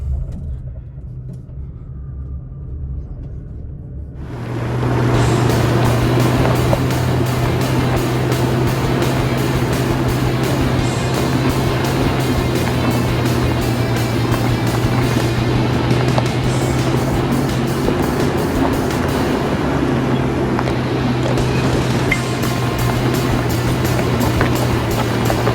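A Toyota Tacoma in crawl control creeps off-road. After a few quiet seconds a loud, steady engine hum with a low drone rises, and continuous crunching and rumbling from the tires carry on under it, with no voices.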